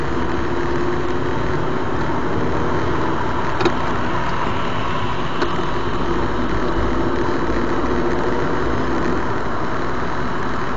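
A car engine during a driving lesson, held at a steady moderate drone with gentle throttle over about ten seconds, heard from inside the cabin with no talking.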